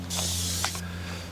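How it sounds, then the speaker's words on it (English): Waterless cleaner sprayed from a spray bottle onto a motorcycle: one steady close hiss of spray lasting under a second, then a fainter trailing mist. "I like the spray bottle as well. Still spraying."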